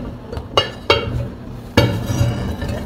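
Plate clinks against a dish while a set dragon fruit pudding is flipped out onto it: two sharp ceramic knocks early, then a louder clatter, close up with no talking.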